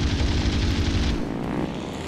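Piston engine of an Italian fighter plane in War Thunder, a loud rumbling drone with propeller buzz that drops in intensity partway through, no talk over it.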